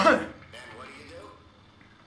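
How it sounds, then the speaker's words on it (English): A single short, close cough bursts out at the very start, then someone keeps talking over quiet background sound. "Was that a sneeze or a cough? That was a cough."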